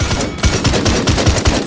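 Rapid automatic weapon fire in Paladins, a loud, rhythmic burst of evenly spaced shots rattling continuously with no pause.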